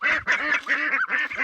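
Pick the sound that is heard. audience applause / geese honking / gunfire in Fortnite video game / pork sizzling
geese honking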